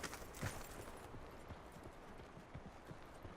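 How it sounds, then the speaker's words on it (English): Footsteps thud across a wooden dock in COD Black Ops Blackout, a quick run of close, fairly faint knocking steps with no voices. "Now I hear footsteps on the dock."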